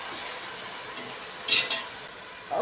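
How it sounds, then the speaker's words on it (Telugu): Ginger, garlic and coconut masala paste frying in oil for chicken curry, a steady soft sizzle with a brief louder stir scrape midway and another near the end, no voices. "కొంచెం వేగే వరకు, నూనె పైకి తేలిన వరకు వేపుకుందామండి"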